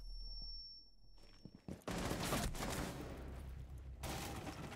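A grenade detonates in the online shooter Rainbow Six Siege, a sudden loud booming blast after a quiet moment, followed by sustained rumbling debris and a second burst.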